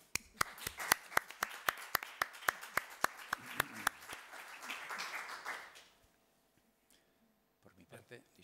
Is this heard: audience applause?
yes